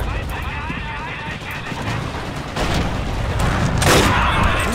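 Forgotten Hope 2 battle set in the fall of Tobruk: a continuous wash of distant rifle and machine-gun fire that grows louder toward the end, with someone speaking over the shooting.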